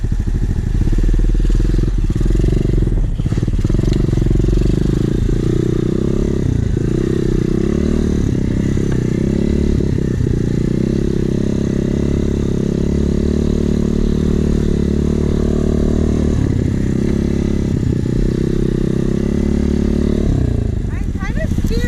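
An inexpensive Amazon-bought dirt bike running while being ridden, a loud, close engine drone with rises and dips in revs and rattling clatter throughout, with voices talking over it.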